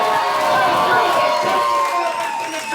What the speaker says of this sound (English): Make some noise if you think Al did it better